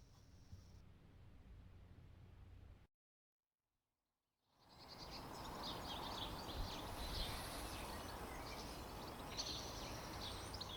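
Birdsong in spring behind a church along a Northamptonshire canal, a steady outdoor chorus of high chirps over a broad background hiss, cut by a brief silent gap before the ambience returns fuller.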